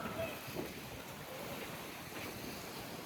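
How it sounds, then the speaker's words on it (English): Steady wind blows across an open outdoor street in the town of Lake Wales, buffeting the microphone with a continuous rushing roar that stays loud and even throughout, with no voices. "Sure is windy."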